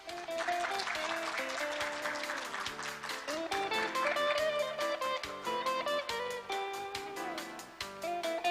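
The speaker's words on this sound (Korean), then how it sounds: "큰 박수 부탁드리겠습니다." Audience applause at an international patent court conference, a steady, fairly close patter of clapping from a seated crowd that continues evenly for several seconds, with music playing underneath.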